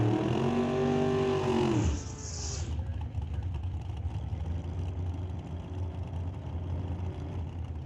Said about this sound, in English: Keith Winterbottom rowing through the gears in the left lane. His Super Shifter Camaro.